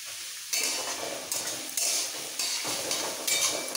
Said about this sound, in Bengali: এবার পেঁয়াজটাকে একটু হালকা ভেজে নেবো